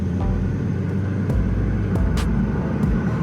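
Ford Focus with a freshly replaced dual-clutch transmission driving on a test run, a steady loud engine and road rumble throughout with brief shifts in low-end tone.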